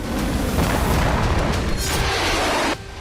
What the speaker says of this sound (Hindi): इजरायली डिफेंस सिस्टम एक्टिव हुए और उन्होंने हूती की मिसाइल को हवा में ही नष्ट कर दिया।